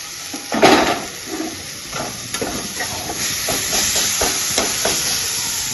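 Tomatoes frying in a pan for fish curry, a steady close hiss and sizzle with a brief louder burst near the start and soft stirring scrapes throughout.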